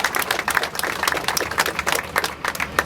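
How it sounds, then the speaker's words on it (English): An audience at an Uncle Sam statue dedication in Danbury, Connecticut claps steadily in dense, continuous applause from a crowd. "give a round of applause."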